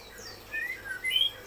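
A white-rumped shama, the murai batu, sings at a breeding farm in Cikarang, giving a few short, thin whistled phrases that are faint and sit over a quiet background.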